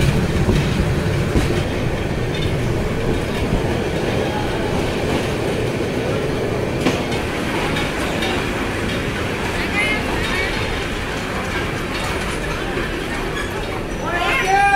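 A passenger train pulls into Jamalpur Town Junction station in the afternoon, with a steady rumble of wheels and carriages, occasional brake squeal near the end, and voices audible over the noise.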